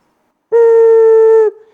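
Single sustained note from a clay ocarina, smooth and fluty with a clean steady tone, held for about a second on its own before stopping cleanly.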